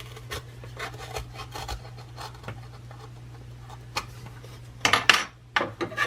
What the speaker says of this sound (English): cut away here with a knife carefully